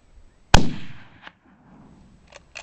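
An Enfield .303 rifle fires a single loud, sharp shot from the prone position at a 300-yard range with open sights, its crack decaying into a short rumble, followed by faint clicks.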